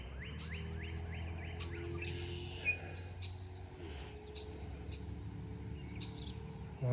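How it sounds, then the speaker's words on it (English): Springtime birds chirping around a farm with Friesian horses, a scatter of thin high calls and a short descending run of repeated notes early on, fairly faint over a steady low rumble, with no voices. "the birds are chirping like crazy"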